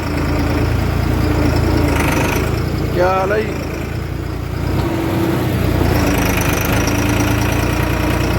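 A tractor engine idles in a queue at a sugar mill, a low steady rumble throughout, with people talking nearby over the engine and a brief higher mechanical whine partway through.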